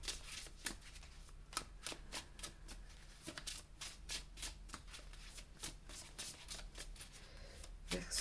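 Tarot cards are shuffled by hand in a steady run of crisp riffling bursts and soft slaps, close and fairly quiet, repeating every half second or so with no talk over them.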